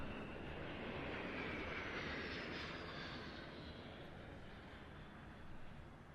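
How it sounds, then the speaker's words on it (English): Aerobatic aircraft flying an outside turn at an airshow practice session in Leszno, a steady, moderately loud engine drone holding for several seconds, swelling slightly, with no voices. "We'll see the aircraft rolling in now."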